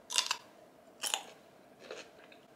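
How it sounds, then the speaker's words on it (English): Crunchy chips eaten alongside a salad, close to the mic: three distinct crisp crunching bites spaced about a second apart, each sharp and bright, fading into quieter chewing, with no talk. "I love, love, love eating chips, so let's dig in."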